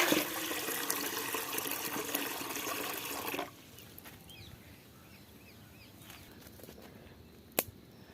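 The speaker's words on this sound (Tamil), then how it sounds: "பச்சை தண்ணி," Water pours loudly and steadily from a vessel for village cooking of a pepper egg dish, running for about three seconds and then giving way to faint trickles, drips and birdsong.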